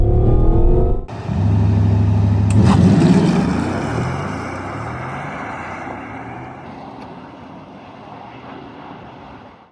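A Porsche Cayenne Turbo Electric SUV launches hard under launch control with a loud rising whine and rushing noise that builds, then fades as it pulls away.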